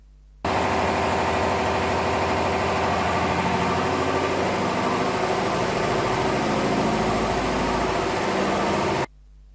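A diesel engine on a lab test rig runs steadily at idle, a loud, even mechanical drone with rough vibration that starts abruptly and cuts off just as suddenly.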